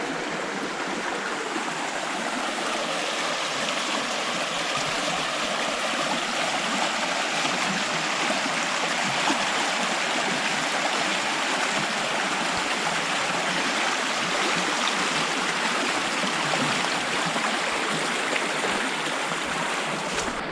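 A shallow river stream flows steadily near a fallen tree crossing by abandoned quarries in Somerset, a constant close rushing and babbling of water with no pauses and no voices.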